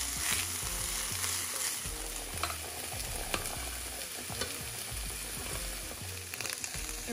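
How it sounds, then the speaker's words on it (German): Half a batch of minced meat fries in warm oil in a pan, a steady close sizzle broken by the scrape and clatter of stirring, with no one talking. "kommt dann auch die Hälfte ab in die Pfanne"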